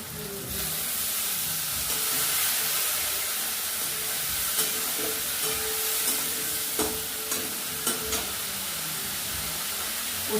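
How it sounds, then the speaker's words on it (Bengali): Spice masala for a village-style mutton curry sizzles and hisses in a pot as it is stir-fried, a continuous frying roar broken by occasional scrapes and small pops, with no talking. "কষে দেবো মশলাটা ভালো করে"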